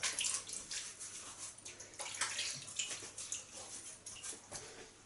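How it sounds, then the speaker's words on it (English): Tap water runs and splashes softly as a face is wetted before shaving, a faint continuous trickle with light irregular splashes throughout. "we're going to wet the face with water"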